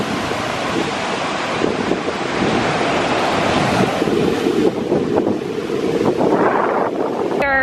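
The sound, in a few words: wild sea waves on Formentera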